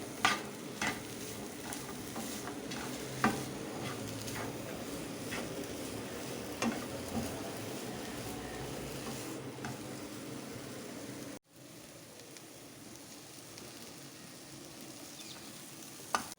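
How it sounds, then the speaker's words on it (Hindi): Chopped capsicum sizzles in a pan with chicken, a soft continuous frying hiss with occasional stirring scrapes, briefly cut off near the end before resuming quieter, no voices. "सारी की सारी शिमला मिर्च डाल देंगे। इसको 2 मिनट के लिए पकाएंगे।"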